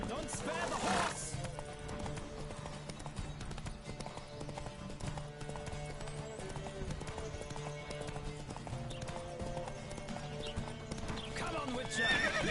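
A galloping horse in a Witcher 3: Wild Hunt race, hoofbeats pounding in a continuous rapid rhythm, with whinnies breaking out near the start and again at the close amid game ambience and voices.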